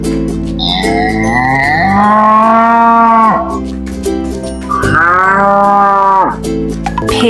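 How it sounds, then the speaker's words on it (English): A cow moos twice in long, loud, drawn-out calls with a falling pitch, separated by a short pause, with no talk. "Cow."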